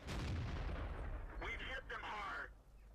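Tank cannon rounds fire in a World of Tanks battle: a heavy, booming shot opens, then two shorter reports follow close together as the rumble fades.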